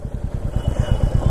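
A Royal Enfield Himalayan 450 motorcycle engine putters close by in a steady, rapid thumping rhythm, brief and fairly loud.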